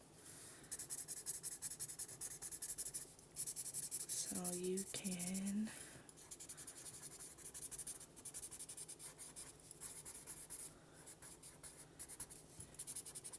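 A pencil shades and blends across paper while a flower is sketched, giving a soft, continuous scratchy rubbing close by, with a brief spoken aside in the middle.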